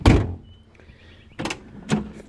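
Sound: Mercedes 380SL car door shutting solidly

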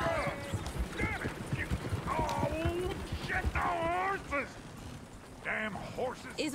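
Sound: horses neighing and hooves clip-clopping in the video game Red Dead Redemption 2

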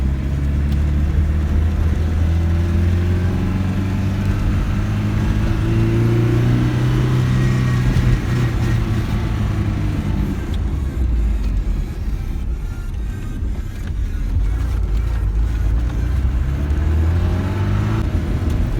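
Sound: Tofaş Şahin car driving

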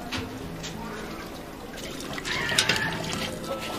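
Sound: washing winter melon under water

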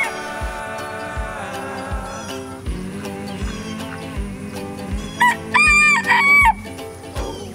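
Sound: bantam rooster crowing

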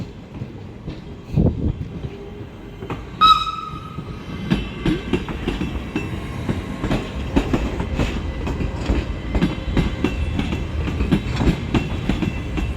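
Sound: passing train

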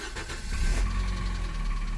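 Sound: Nissan car engine starting

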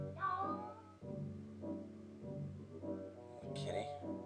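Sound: cat meowing

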